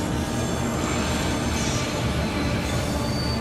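A train in the Transport Fever 2 video game rolls into a tunnel, making a continuous, dense rumble and rushing noise with faint high squeals, loud and steady throughout with no talking.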